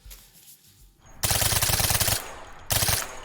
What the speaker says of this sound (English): MG42, 50 round bursts are kind of optimal